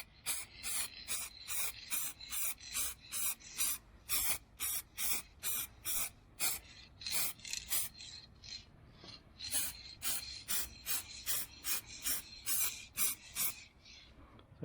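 Spray gun laying down silver metallic car paint in a steady series of short, evenly spaced hissing passes, each burst crisp and close with quiet gaps between.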